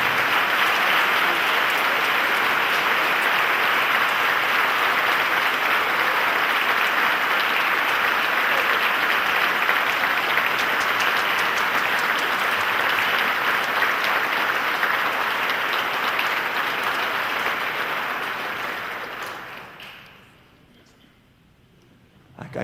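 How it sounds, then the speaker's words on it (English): A concert audience at a youth concert band spring concert gives long, steady applause for the senior class. The dense clapping holds evenly for about twenty seconds before quickly dying away into near silence. "would you please stand and receive a round of applause from our audience"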